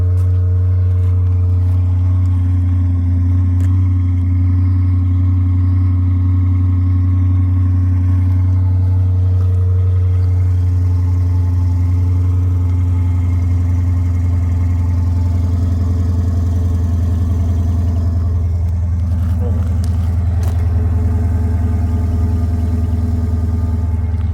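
A stock car engine idles steadily and loudly for the whole stretch, a deep constant rumble with slight variations and no talking over it.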